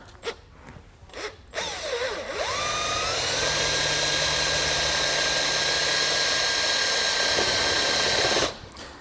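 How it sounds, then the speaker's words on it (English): A power drill bores through a 1-1/2 inch wide metal continuous hinge, starting with a few short bursts, then settling into a loud, steady high-pitched whine for about six seconds before stopping. "we are going straight through the metal, so don't put your hands underneath right where you're drilling"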